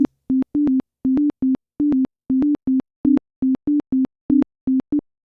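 A synthesized electronic tone from Ableton's Operator pulses in an uneven, repeating 4-against-3 polyrhythm of short bursts, evenly loud and close, with no voices.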